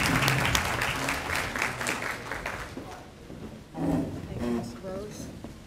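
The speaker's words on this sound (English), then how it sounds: "Let's give her a round of applause" An audience at a disability awards event gives a round of applause. The clapping starts fairly strong, thins out, then swells again briefly, with people talking underneath it.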